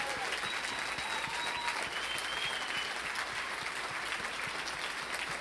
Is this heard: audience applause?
yes